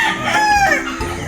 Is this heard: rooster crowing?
yes